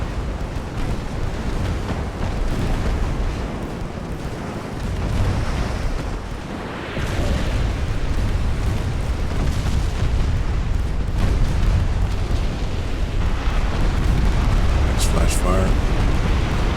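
Warship guns boom across a naval battle in Ultimate Admiral Dreadnoughts, a dense run of rumbling blasts that continues through the scene, with someone talking over the gunfire.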